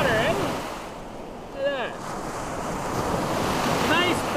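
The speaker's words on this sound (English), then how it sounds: "Nice big waves," Big ocean waves break on a sandy beach with a continuous close roar of surf, buffeted by wind noise on the microphone. A voice speaks briefly over the waves.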